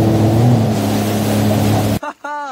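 A video game jet ski engine gives a steady, droning hum with a whining tone for about two seconds, then cuts off as a voice starts speaking.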